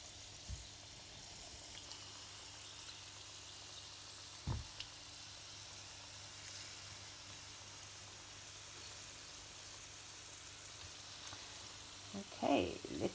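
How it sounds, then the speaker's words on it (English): Samosas deep frying in hot oil, a steady soft broadband sizzle and crackle running throughout, with a few brief clatters of handling near the start and end. "Ready to start deep frying them."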